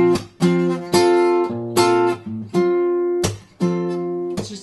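Acoustic guitar plays measure 128 of a song at the end of the chorus, a few strummed chords with a shifted timing, ringing clearly and close with short gaps between them, no talking.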